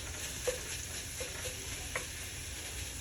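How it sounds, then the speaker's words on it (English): Vegan veggie crumbles brown in a pan with a soft, steady sizzle, broken by a few brief scraping stirs close by. "Just got to keep mixing everything up. Browning this really nice."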